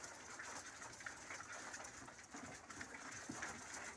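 Soft, low cooing of pedigree German racing pigeons repeats in a steady murmur against faint background noise, fairly quiet and close.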